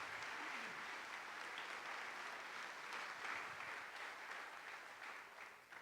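A church congregation applauding during a Spanish-language sermon, a broad, steady wash of many hands clapping that fills the room evenly for several seconds, fading a little toward the end.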